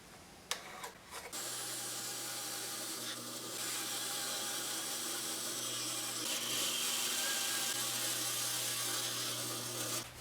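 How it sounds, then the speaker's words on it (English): A bandsaw cuts wood for a spoon-making guide, its motor starting after a few clicks and then running in a steady, fairly loud hum with a hissing cut. "I'll just mark it and cut it on the bandsaw"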